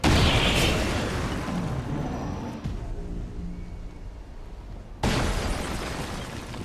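Grenade explosion in XCOM 2 War of the Chosen: a loud, dense blast with crackling debris that decays, cuts to a quieter low hum, then a second burst of heavy noise starts abruptly, with no voices.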